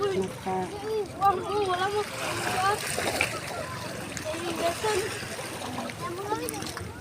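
Sea water splashes and sloshes close by on a beach while people talk over it, with occasional louder splashes breaking through the voices.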